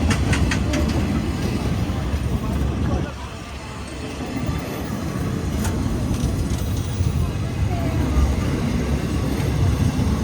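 A Thai train with an air-conditioned dining car runs past a dam crossing, a loud continuous rumble and rolling rattle of carriages with faint clattering wheel beats, a voice talking over it.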